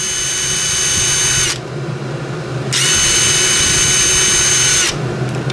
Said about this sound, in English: On the 12 volt extreme, I have it in high range. So let's listen to that motor.